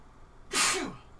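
A single sharp sneeze bursts out close to the microphone, a quick breathy intake and then a loud noisy blast that fades within half a second over quiet room hiss.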